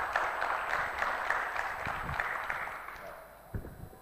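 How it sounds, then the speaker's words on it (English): Audience applause at a blockchain congress, steady crowd clapping that fades gradually over several seconds, heard at a moderate distance in a large hall. "Please give a round of applause."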